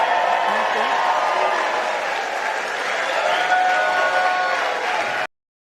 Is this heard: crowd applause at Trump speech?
yes